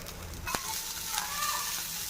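Coriander leaves fry in oil in a pan for tomato chutney, a steady soft sizzle with a couple of faint stirring scrapes throughout.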